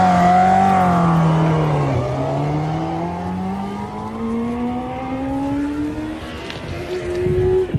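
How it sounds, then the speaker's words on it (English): Motorcycle engine as the rider chops the throttle, a loud close engine note that drops sharply and then climbs steadily in pitch, with some rough mechanical noise near the end. "Watch what happens when he chops the gas."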